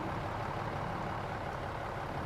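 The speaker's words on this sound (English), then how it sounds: "the engine sounds, the RPMs change when you kind of upshift and downshift" Truck engine running in the video game SnowRunner, a steady low rumble at fairly even revs, faint and unbroken for a couple of seconds.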